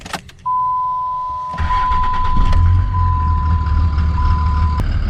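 A Dodge Cummins 4x4 truck engine starts and rumbles steadily up close, with a constant electronic chime tone running above it for several seconds before cutting out.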